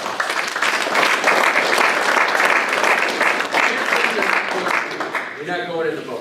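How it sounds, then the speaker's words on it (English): A crowd at a motivational talk breaks into loud, sustained applause, dense clapping carrying on steadily throughout and fading only at the very end as a voice starts to come through. "Give yourselves a round of applause."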